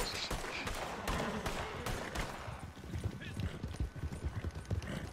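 Hooves of a horse gallop in a rapid clip-clop rhythm during a video game, mixed with bursts of gunfire and a brief whinny, while players talk over the action.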